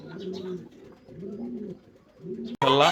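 Sensei pigeons at Liton's farm coo in three low, warbling phrases close by, each rising and falling, before a sudden loud, brief burst of noise at the very end.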